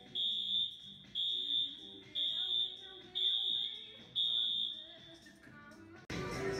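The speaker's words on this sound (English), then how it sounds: "The fire alarm just went off for no reason." Loud, piercing fire alarm aboard a Norwegian Escape cruise ship, sounding in five evenly spaced long shrill beeps of about a second each, then cutting off abruptly into a burst of noise.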